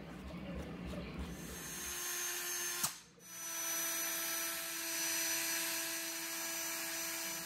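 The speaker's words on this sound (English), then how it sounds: "So I'm gonna use the 1/8 bit for the drill." A power drill fitted with a 1/8 bit whirs steadily close by, with a short click and a brief dip before the motor picks up again and keeps spinning at an even pitch.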